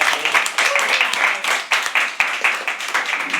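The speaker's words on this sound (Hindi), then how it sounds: "एक और बार जोरदार तालियां है।" An audience at a live poetry open mic at The Habitat claps briskly, with uneven bursts of hand claps rising and falling over a few seconds.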